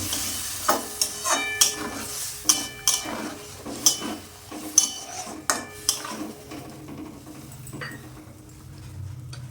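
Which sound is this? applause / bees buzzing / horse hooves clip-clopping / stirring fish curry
stirring fish curry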